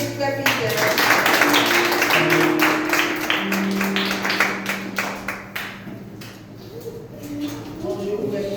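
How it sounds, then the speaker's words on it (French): An audience applauds brother Peter after he sings at a French-speaking church gathering, a burst of hand clapping with a sustained musical tone behind it that thins into scattered claps, while someone speaks. "On applaudit frère Peter."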